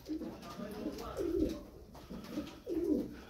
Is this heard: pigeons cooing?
yes